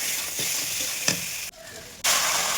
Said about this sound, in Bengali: এবার মাছের মাথাগুলো দিয়ে দেবো